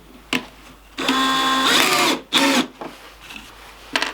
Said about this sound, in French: J'enclenche le clou comme c'était une mèche.